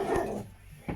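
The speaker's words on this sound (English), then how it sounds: "What are you doing there, you crazy stupid dog?" A dog gives two short, close barks with a brief gap between them.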